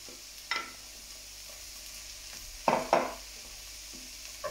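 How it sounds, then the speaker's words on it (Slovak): Mushrooms go into a pan of gently fried shallot and garlic in oil, giving a low sizzle with a few sharp scraping and stirring clatters from a utensil, fairly quiet and close, without speech. "šalotku som si jemne vysmažil s cesnakom a teraz pridávam už hríby"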